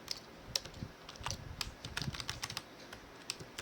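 Quick bursts of keystrokes as code is typed on a computer keyboard, soft close clicks in an uneven rhythm with brief pauses, quiet and alone.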